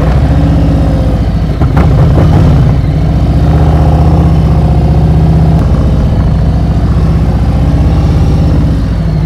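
A motorcycle engine idles steadily nearby during a slow-speed serpentine riding exercise, a loud, continuous low hum with a brief throttle blip and rattle early on, then an even drone throughout.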